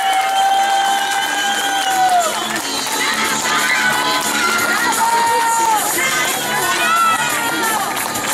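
Crowd at a car race awards ceremony for the X3 class at Shipka 2013 applauds and cheers steadily, a dense wash of clapping with high shouts and whistles rising throughout.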